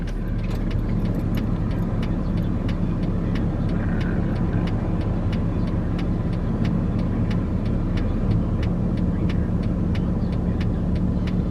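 A car on the road, heard from inside as a steady low rumble of engine and tire noise throughout, with a faint regular ticking running beneath it.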